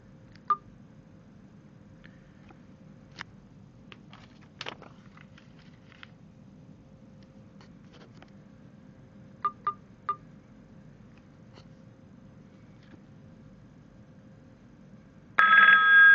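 Outgoing call placed through the Bria softphone app on an Android phone: a few short, sparse dial tones and beeps over faint line hiss, then a loud ringing tone bursts in near the end, with no talking.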